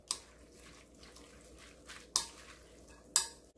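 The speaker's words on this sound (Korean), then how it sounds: "그리고 이렇게 골고루 다 섞어주세요." Seasoning for a cold cucumber and seaweed soup, with plum syrup and vinegar, is stirred in a bowl: a faint, soft scraping backdrop punctuated by a few sharp clinks of a utensil against the dish.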